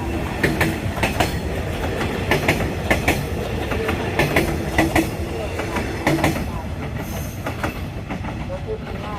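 A Hitachi locomotive hauling empty railway cars passes at speed, loud and close, with rapid rhythmic clickety-clack of wheels over rail joints and some wheel squeal; a voice is faintly heard beneath the rumble.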